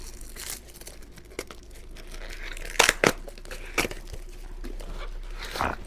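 Gift wrapping paper crinkles and rustles close by, with a few sharper crumpling bursts and tears standing out from quieter handling.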